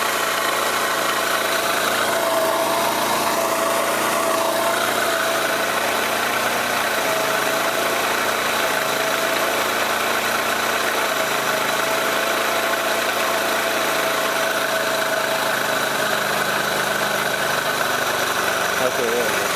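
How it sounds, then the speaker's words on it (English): A moped engine idles steadily while warming up, a constant mid-pitched motor hum with faint vibration that holds evenly and close throughout, no talking. "And the moped will run and everything. And I have to let it warm up."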